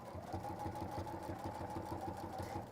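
A sewing machine runs steadily while stitching fabric, giving an even mechanical whirr with a regular low rhythmic pulse. It stays fairly quiet and continuous throughout, with no talk.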